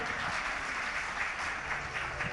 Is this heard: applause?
yes